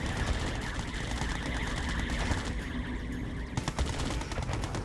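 Gatling tanks fire in a Red Alert 2: Yuri's Revenge battle, a dense, steady rattle of rapid gunfire that never stops, mixed with other battle noise at moderate loudness.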